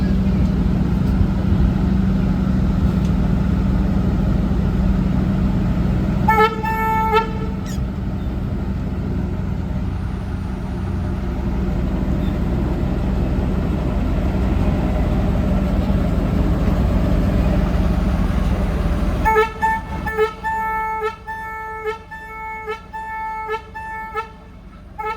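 A BB306 diesel locomotive idles with a deep, steady engine rumble, and two bursts of its loud multi-tone horn sound briefly near the start and again longer toward the end, close by.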